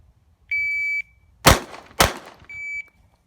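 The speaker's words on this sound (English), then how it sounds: "Glock 42, 380, 2 shots, 2 hands, 2 yards, 1 hand" Two loud, sharp pistol shots about half a second apart from a Glock 42 chambered in .380, bracketed by electronic shot-timer beeps before and after.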